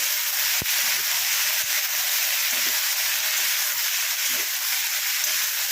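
A spatula scrapes through mixed summer vegetables, including pumpkin, sizzling in a pan, with a constant bright frying hiss under rubbing strokes and a sharp knock early on.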